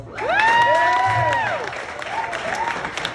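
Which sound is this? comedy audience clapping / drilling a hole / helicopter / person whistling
comedy audience clapping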